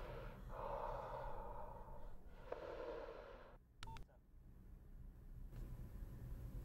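Breathing over a telephone line, two drawn-out breaths in and out, faint and muffled, followed by a brief beep-like tone and low line noise.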